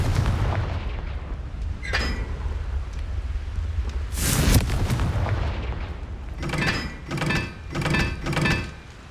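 Spell explosions in the Hogwarts Legacy video game, with a deep blast and rumble followed by a sharp loud bang, then a quick series of crackling impacts.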